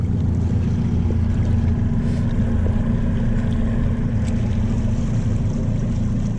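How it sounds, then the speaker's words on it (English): The motor of a small fishing boat runs at a steady low drone, loud and close. Wind buffets the microphone and water washes against the hull throughout. "Best thing about this brand of motor is that it gets you home."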